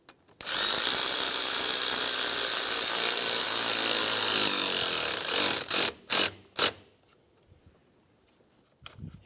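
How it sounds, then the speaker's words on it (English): A clamp on a 2003–2007 Infiniti G35 intake is snugged down with a loud, continuous grinding whir lasting about five seconds, followed by three short bursts, then near quiet. "Snug down the clamp."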